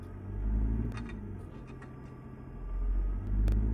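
A deep Detroit diesel truck engine in the video game American Truck Simulator rumbles steadily, swelling and easing in loudness, with a few faint clicks and rattles over the low drone.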